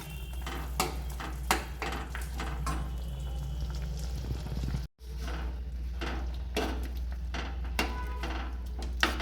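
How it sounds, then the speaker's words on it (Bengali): Butter-tossed onions going into a pan of gravy noodles for Kolkata-style chowmein, with scattered clinks and scrapes of a utensil over a steady low kitchen hum and soft bubbling. "আর বাটার দিয়ে টস করে রাখা পেঁয়াজটা দিয়ে দিচ্ছি।"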